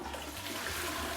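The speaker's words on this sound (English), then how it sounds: "people were coming in and flushing the toilet" A toilet flushes with rainwater drawn from a cistern in a green building in Berkeley, a steady close rushing gush of water that runs on without pause and with no voices.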